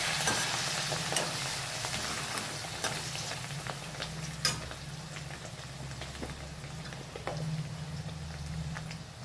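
A pan of frying food, with chili, curry leaves and coriander for an aloo paneer rice, sizzles and bubbles steadily up close while a spoon stirs and scrapes in occasional sharp clicks, with no talk.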